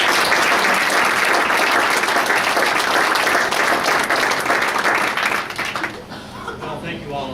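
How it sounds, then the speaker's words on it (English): An audience claps loudly and steadily in a building for about six seconds before the applause fades, with a little murmuring at the end. "let's have a big round of applause"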